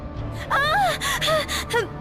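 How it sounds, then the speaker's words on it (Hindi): Several sharp, breathy gasps in quick succession, close and loud, with a strained, panicked quality and no speech. "बस उन सांसों की आवाजें आ रही थी"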